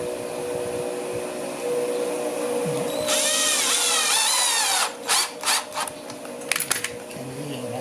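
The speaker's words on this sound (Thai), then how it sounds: "คราวนี้เราก็ยิงตะปูเกลียวใส่ตรงนี้ครับ" A power drill drives threaded screws into a wooden folding table frame to fasten a strap, giving a loud rising whine that winds up then stops, followed by several short bursts and clicks.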